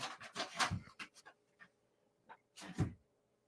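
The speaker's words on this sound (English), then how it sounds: "The rat dog thinks he's the boss. He's the one making the noise right now that you can hear." A small dog pants and whimpers in short, breathy bursts close by, with quiet pauses between them, during an indoor chat.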